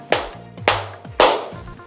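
Three separate bursts of clapping at an event, spaced about half a second apart, fairly loud and close, with no talking.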